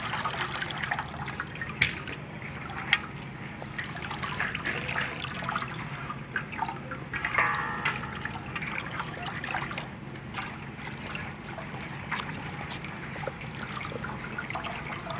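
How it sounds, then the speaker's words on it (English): Palm kernels being washed in water during red palm oil preparation in West Africa, a steady trickling and splashing of liquid with small clatters, moderately close and continuous, with no talk. "See how they're washing it"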